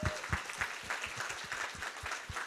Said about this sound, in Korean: 박수 쳐요.